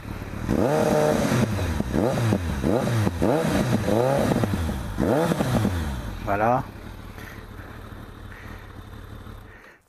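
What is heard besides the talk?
Kawasaki ZRX 1200 motorcycle starting, exhaust revving and idling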